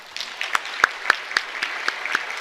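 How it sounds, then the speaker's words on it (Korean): A church congregation claps during a Sunday service, a sparse, fairly close patter of individual claps falling in a loose rhythm. "큰 박수로 환영하겠습니다"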